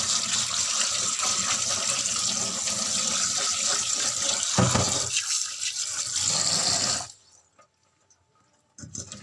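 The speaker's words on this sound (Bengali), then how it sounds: "মাছগুলো একদম পরিষ্কার করে ধোয়া হয়ে যায়" Tap water running steadily into a sink as small fish are washed, a loud continuous splashing gush that cuts off abruptly near the end, followed by quiet handling sounds.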